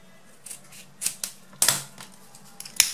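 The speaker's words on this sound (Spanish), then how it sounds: "Cortamos acá las punticas" Scissors snipping the ends of ribbon strips for handmade flower hair bows, several sharp separate cuts spaced unevenly, close and clear with no talking.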